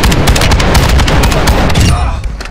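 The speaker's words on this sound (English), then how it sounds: "Stun grenade out!" A stun grenade goes off in the Call of Duty: Modern Warfare 2 (2022) video game, heard as a loud, dense burst of blasts and crackling gunfire-like noise that tapers off near the end.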